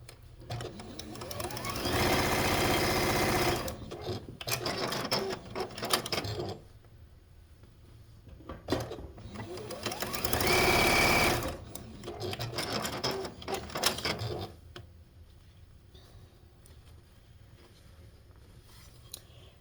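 Sewing machine stitching quilt block seams runs in two steady whirring bursts with pauses between, plus fabric handling and soft clicks, recorded close at moderate volume.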